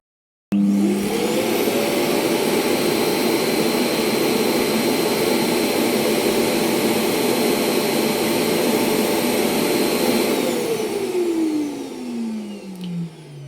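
A Xiaomi X10+ robot vacuum starts its suction abruptly with a loud, steady whir, holds a constant high whine, then winds down with a falling pitch near the end.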